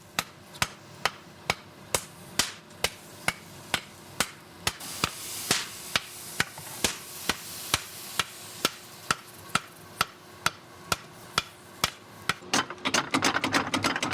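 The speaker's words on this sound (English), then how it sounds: "Mr. Doi removes it from the furnace and hammers it approximately 300 times to remove impurities" A blacksmith hammers heated steel for a Japanese knife, sharp metallic blows landing at a steady, even rhythm, close and clear, then breaking into a quicker flurry of lighter strikes at the end.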